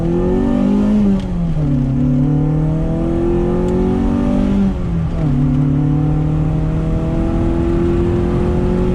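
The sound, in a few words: car engine revving during a street tuning pull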